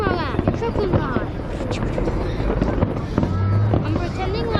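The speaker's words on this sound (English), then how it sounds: "I'm pretending like all of the fireworks are coming out of guns." Fireworks burst over a New Year celebration in Brisbane, a dense run of booms and crackles heard outdoors with people talking over the steady barrage.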